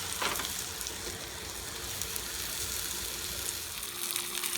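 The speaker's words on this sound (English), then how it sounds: "So I'm going to let it brown on this side." A pot roast browns in a hot pan, giving a steady, fairly loud frying sizzle that carries on without a break, with no talking.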